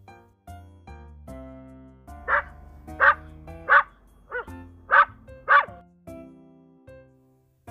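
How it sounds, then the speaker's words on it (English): A farm herding dog barks six times in a slow, evenly spaced series, loud and close, over soft background tones. "Farm dogs are herders."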